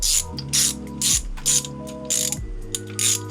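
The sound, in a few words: ratchet screwing in MK4 GTI valve cover bolt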